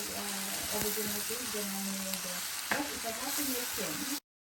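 Eggplant and potatoes are stirred in hot oil in a pan, with a steady close sizzle, a spoon scraping through the pieces, a sharp clink of utensil on pan, and a faint voice in the background.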